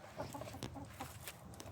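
Chickens in a henhouse cluck in quick, soft, overlapping bursts, heard close by and fairly quiet over a short stretch.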